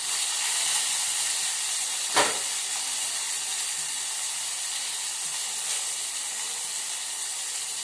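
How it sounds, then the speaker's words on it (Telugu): Green chilies drop into hot oil in a pan, giving a steady close hiss and sizzle with one sharp crackling burst early on, no voices. "పచ్చిమిరపకాయలు వేస్తున్నా."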